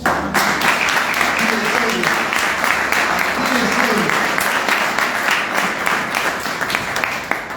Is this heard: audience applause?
yes